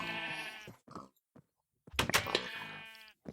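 Sheep bleating in the blocky survival game TerraFirmaCraft, two separate wavering bleats from a pregnant, unshorn ewe, close and clear with a short quiet gap between them and no talk.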